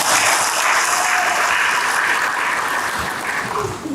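Audience applause at a church gathering, a dense, steady wash of clapping from many hands that holds at an even level throughout, with no voices standing out above it.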